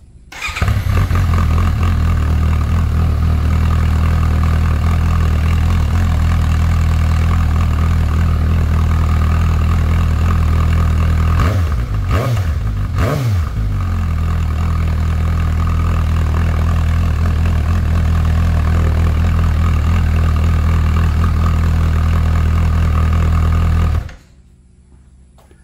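A Suzuki GSX-S750 with a Yoshimura R11 exhaust and the mid-pipe silencer removed fires up and idles loudly, a steady deep rumble for about twenty seconds with a brief blip midway, then cuts off.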